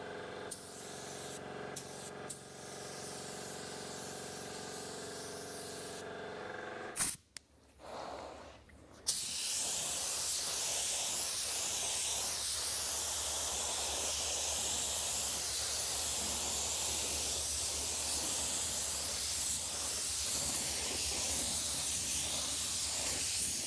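Steady, loud hiss of a spray gun laying base coat paint over primer on a car, close and continuous after a few brief clunks and a short pause at the start.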